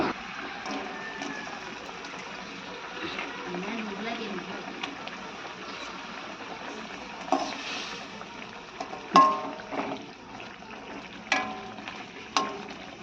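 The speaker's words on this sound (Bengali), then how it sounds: "একটু পুকুরের মাছ ধরেছিল তো ওটাই ভাজা হচ্ছে" Pond-caught fish frying in a pan for a spicy Bengali fish dish, a steady sizzle running throughout with a few sharper pops and clatters near the end, mixed with background voices.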